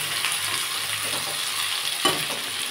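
Potatoes, onion and tomato frying together in a pan for pea ghugni, a steady close sizzle with soft stirring scrapes and one sharper clack.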